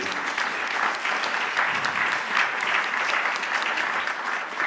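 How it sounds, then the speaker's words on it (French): An audience applauds a speaker walking onto the stage at a biodiversity conference, with sustained, even clapping from many hands at moderate loudness and no speech over it. "on peut l'applaudir en venant sur scène"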